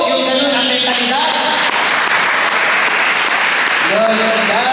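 Church congregation at a sermon applauding steadily throughout, dense clapping with a few voices calling out over it.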